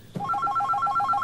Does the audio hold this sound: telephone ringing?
yes